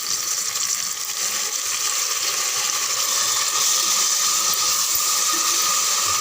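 Five chopped tomatoes sauté in a pan for tomato rice, giving a steady, loud, close sizzling hiss that runs throughout without pause, with no voices.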